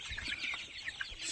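Chickens huddled together on a cold winter morning give soft, low clucks and murmurs, a close, quiet, continuous huddle of fowl sounds with no talking.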